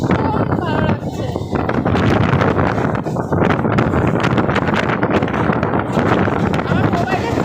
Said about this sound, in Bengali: এই হাওয়াটা ভীষণ ভালো লাগছে।